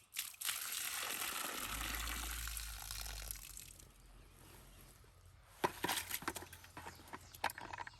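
Rusty, dirty water gushes and splashes as it is poured out of a container for about four seconds, then goes quiet before a few sharp knocks and clatters close by.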